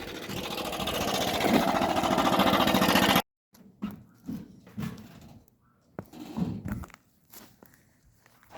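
Lawn mower engine running close by in a steady loud drone, then cutting out abruptly, followed by scattered quieter knocks and rustles.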